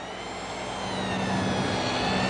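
A Tagan BZ-900 power supply driving a GeForce 8800GT card under 3D load gives off a steady, high-pitched electrical whine layered over a constant broadband fan hiss, loud and unbroken throughout.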